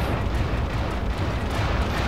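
An explosion strikes a Puma infantry fighting vehicle in a video game, heard as a dense, sustained rumbling roar that holds loud and even throughout with no clear single blast onset.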